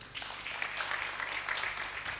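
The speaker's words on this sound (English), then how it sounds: "I would like to give a big applause for the Bio team for making that happen every day" An audience claps for a team at a food products sustainability launch event: a brief, even spell of many hands applauding, moderately quiet and somewhat distant.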